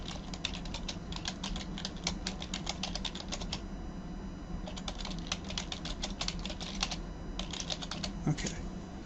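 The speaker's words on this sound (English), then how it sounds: "I think I'll type that in here." Rapid keystrokes on a computer keyboard during a course syllabus walkthrough, quiet bursts of clicking with a short pause midway, recorded close in a quiet room.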